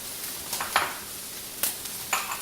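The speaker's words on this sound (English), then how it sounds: "sesame seeds like to pop a little bit, so they might be popping out of the skillet for a little bit" Sesame seeds pop and sizzle in a skillet with a Brussels sprout, asparagus and pea stir-fry: a steady hiss broken by several sharp, close pops.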